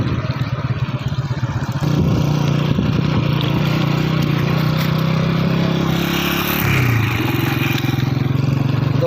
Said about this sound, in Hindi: ट्रैक्टर वो देखो ट्रैक्टर जा रहा है